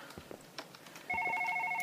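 A phone rings in the One Late Night video game, a steady electronic tone that starts partway through and holds loud to the end after some quiet clicks and shuffling.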